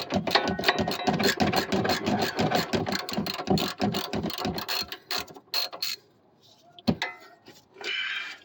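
A ratchet wrench tightens a bolt on the front suspension of a 2006 Infiniti G35 sedan, making rapid close clicking that runs steadily, then pauses and gives a few short bursts of clicks near the end.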